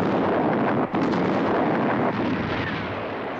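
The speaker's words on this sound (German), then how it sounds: "Habe Sichtkontakt mit Explosion." A loud, sustained roaring blast of a missile explosion fills the whole stretch, rumbling and hissing with a brief dip near the start.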